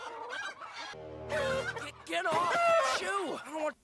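Chickens clucking and squawking inside a chicken processing factory, several overlapping bird calls in busy bursts, fairly loud and close, with a low steady hum underneath in the middle stretch.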